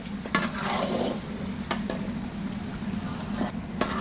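Mutton korma fries in oil and masala while being stirred, a steady sizzle broken by several sharp spoon scrapes and clinks against the pot.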